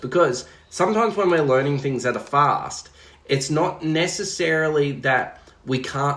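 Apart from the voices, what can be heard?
No distinct noise like a dog, phone or traffic.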